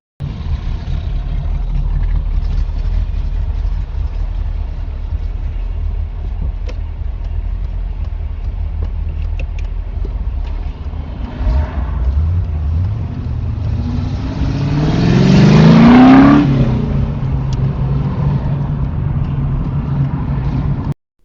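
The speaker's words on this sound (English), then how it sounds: "just listen to this car as she goes past me" A car approaches and accelerates past close by, its engine swelling to a loud peak before fading away over a steady low road rumble.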